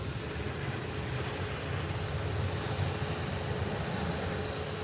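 A Delta airliner rolls down the runway after landing, its steady broadband roar of engines and wheels holding loud and even as it decelerates, with no talking.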